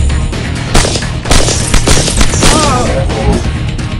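Heavy gunfire in the Evolution: Battle For Utopia shooter game, loud dense bursts of shots and booms layered over a constant roar of battle noise.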